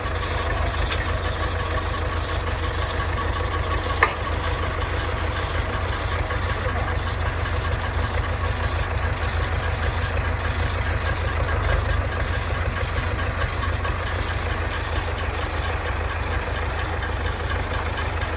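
MTZ tractor diesel engine running at a steady idle, a loud constant low rumble close by with one sharp click early on, no voices.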